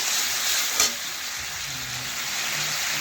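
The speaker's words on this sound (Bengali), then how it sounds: "দেখুন বন্ধুরা এইভাবে নাড়াচাড়া করে একটু কষিয়ে নিতে হবে।" A salted spice mixture sizzles loudly and steadily in a pan close up as it is stirred, with one brief clink of the utensil partway through and no voices.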